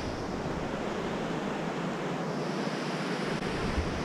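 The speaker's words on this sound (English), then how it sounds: "We're chilling here at the Pacific Ocean." Pacific Ocean surf washes onto the Southern California shore in a continuous broad roar with wind, steady and close, with no voices.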